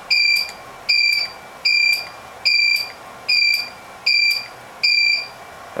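Elinchrom Style RX 300 studio strobes beeping as they recycle, seven sharp, evenly spaced electronic beeps about once per second, loud and clear with no talking.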